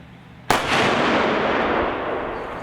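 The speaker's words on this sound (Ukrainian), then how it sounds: "вражали техніку умовного противника із озброєння танків та протитанкової гармати МТ-12 рапіра" A T-64 tank gun or MT-12 Rapira anti-tank gun fires during live-fire drills at a military range: one sudden loud blast followed by a long rolling echo that slowly fades outdoors.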